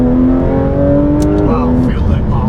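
A Porsche GT RS sports car engine pulls hard under acceleration, a loud, steady, close-up drone that steps up in pitch as it shifts, with a voice talking over it.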